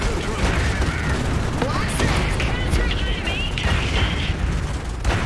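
Gunfire from Kaiser units in the Iron Harvest strategy game, dense overlapping bursts and booms with mechanical clatter running continuously at steady loudness, mixed with game effects.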